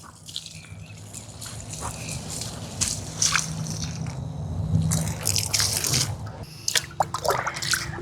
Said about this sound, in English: I have just enough of this weed water to give the tomato plants a little boost.